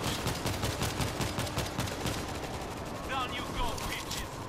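Rapid automatic gunfire from the World War Z shooter in horde mode, a dense stream of shots rattling throughout with brief higher game effects near the end, loud and continuous.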